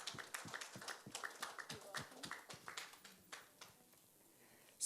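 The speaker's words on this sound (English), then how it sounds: "A round of applause, please." Applause for former defender turned trainer Anne Chiejine at a televised draw, a small group clapping in uneven bursts that fade out after a few seconds, with a brief loud noise at the very end.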